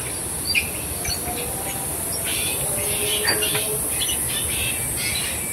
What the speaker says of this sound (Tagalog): Kakatuwa dito, maririnig mo maraming ibon.